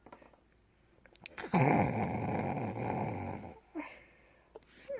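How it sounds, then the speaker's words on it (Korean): A loud, rasping snore swells for about two seconds and fades, followed by a shorter snort-like breath, quiet between them. "왜 이렇게 코골이가 커?"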